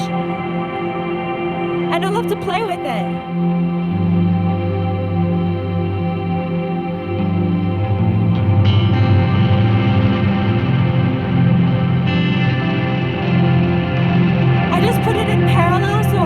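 Sustained guitar chords through a Qi Etherealizer pedal ring out with a washy reverb tail, forming a soft pad while someone talks briefly over the top.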